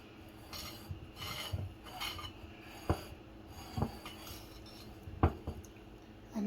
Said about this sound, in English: using the spatula and I add the cream cheese. I just try to smoothen it out as much as I can